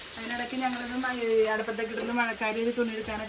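Curries bubbling and sizzling in pans on a home stove, a steady crackling fry that runs throughout with a voice speaking over it.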